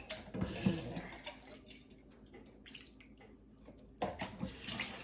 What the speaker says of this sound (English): And I just wash my hands